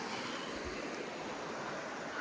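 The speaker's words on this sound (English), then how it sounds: "So this is the Murrindindi River," The Murrindindi River flows in a steady, faint broadband rush of water that holds an even level with no talk over it.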